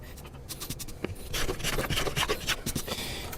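Wood being shaved on a handmade classical guitar, a series of close, short rasping strokes in an uneven rhythm, quiet and with no talk.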